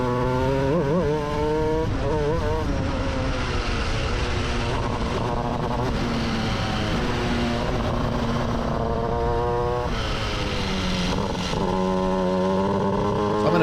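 A shifter kart engine on worn tires runs a full first lap, loud and close throughout, its high revving note climbing and dropping through repeated gear shifts with no talking.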